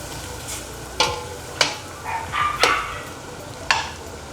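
Garlic and ginger frying in oil for Bicol Express get stirred, a low background sizzle broken by a handful of sharp spoon knocks against the pan and a brief scraping rattle.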